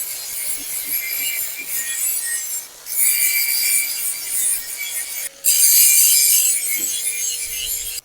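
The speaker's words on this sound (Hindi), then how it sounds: "बाहर से लगा दिया है, अब अंदर से लगा रहा हूँ ग्राइंडर।" Angle grinder working over the welds on a steel pipe frame for a caravan camper, a steady broadband rasping hiss that dips briefly near three seconds and again past five, then returns louder, with no talk.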